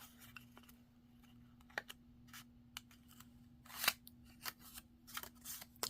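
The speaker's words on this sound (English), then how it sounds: "I can fix it with my scissors." Scissors snipping paper while trimming the corner off a matchbook junk journal piece, several quick close crisp cuts with small pauses between them, no talking.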